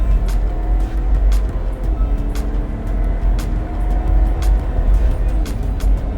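Interior of an INEOS Grenadier with a BMW engine accelerating onto a highway, a loud continuous low engine and road drone with a rising whine and regular faint ticking clicks throughout.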